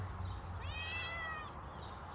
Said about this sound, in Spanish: Mi gato.